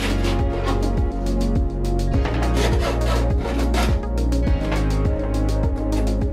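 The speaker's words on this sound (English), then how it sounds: "and then I cut the plywood" Plywood being cut into a shaped piece, a steady rhythmic rasping saw stroke repeating about twice per second, loud and close with no talk.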